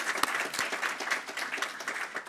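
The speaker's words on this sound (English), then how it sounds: "a round of applause for Ms." At a high-level apprenticeship event, an audience welcomes a speaker with a full, steady round of applause lasting a couple of seconds, dense claps filling the room without talk.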